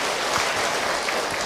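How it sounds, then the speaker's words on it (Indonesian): A congregation at an Indonesian religious lecture claps for a woman who asked a question, giving a short, dense burst of applause that sounds broad and fairly loud. "Tepuk tangan buat ibu tadi yang bertanya."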